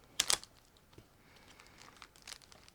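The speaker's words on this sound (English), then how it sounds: "I'm opening another plastic bag." Plastic bag holding model kit parts for a Tamiya 1/35 A34 Comet tank being opened: a sharp, close crinkling burst at the start, then fainter rustles and a few crackles.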